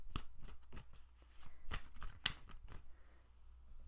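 Tarot cards being shuffled by hand, a run of quick papery riffles and slaps close by with short pauses between bursts and a low room hum underneath.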